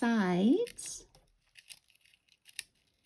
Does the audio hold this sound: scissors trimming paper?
yes